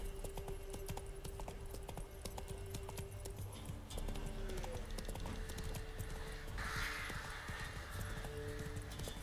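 Roach the horse trotting along a road in The Witcher 3, hooves beating a steady, close clip-clop rhythm throughout, with a short neigh partway through.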